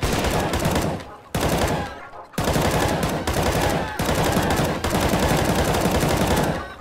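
Rapid bursts of automatic gunfire from a CS:GO triggerbot mod, loud and close, firing in long sustained strings broken by a few brief pauses.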